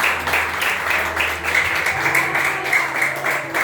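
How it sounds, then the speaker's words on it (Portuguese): Sustained applause fills a church service during a sermon, a dense wash of many hands clapping at steady loudness with a low hum underneath. "Aplauda o nome do Senhor Jesus Cristo."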